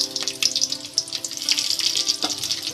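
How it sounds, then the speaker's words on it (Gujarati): Mustard seeds spluttering and crackling in hot oil while spices are tempered, a busy sizzle with rapid pops, steady and close throughout. "રાઈ થોડીક તતડવા લાગી"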